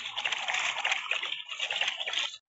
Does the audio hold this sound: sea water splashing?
yes